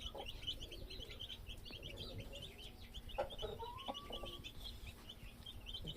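A mother hen clucks low while her growing chicks cheep in a quick, steady stream of high, faint peeps, with no voices.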